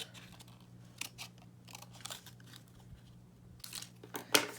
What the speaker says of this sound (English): Just get your scissors and cut them right off.